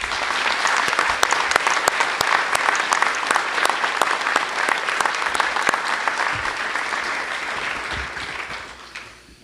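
A large audience at a fire academy graduation gives the firefighters' families sustained, loud applause, with crisp individual claps that hold steady for several seconds before tapering off.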